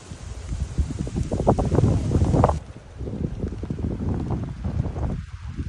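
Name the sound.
breezy wind outdoors on a walk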